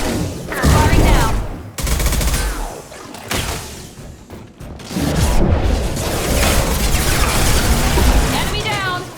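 Sustained gunfire in the Mass Effect 2 video game, dense bursts of shots and impacts with crashing debris, loud and near, broken by a short lull, while voices speak over the combat.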